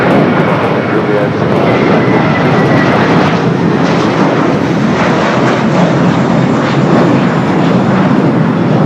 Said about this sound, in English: Also just had a United Dreamliner just touching down here on the south